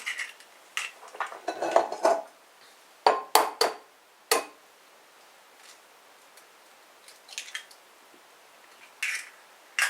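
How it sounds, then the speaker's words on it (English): Raw eggs are whisked to break them up for freezing, a whisk clattering and tapping against a bowl in quick, uneven bursts with quiet pauses between. "So you're just whisking, just to break it all up."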